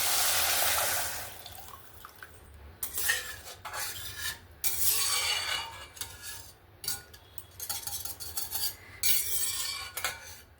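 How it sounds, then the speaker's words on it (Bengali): Homemade chicken stock splashes into a pot of vegetable soup seasoned with black pepper, a close, fairly loud run of broadband pouring and sloshing in several bursts with brief pauses, and faint clinks of the pot. "এবার যে আমি চিকেনের স্টকটা যে বানিয়ে রেখেছিলাম এই জলটাই দিয়ে দেব।"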